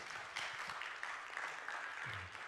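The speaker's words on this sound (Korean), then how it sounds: "우리 박수로 한번 우리 전사님 격려하도록 하겠습니다" A Sunday church congregation gives a quiet, distant round of applause in a Korean service, a soft, even patter of many hands that tapers off near the end.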